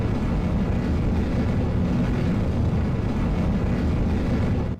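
Rocket first-stage engine throttling down in a video game about a post-Apollo Saturn launch vehicle concept: a steady, loud, broadband roar with heavy low rumble, unbroken throughout, cutting off abruptly at the very end.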